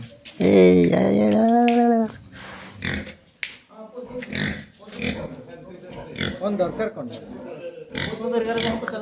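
A pig lets out a loud, drawn-out squeal up close, followed by grunts and snorts while a person talks over the animal noises.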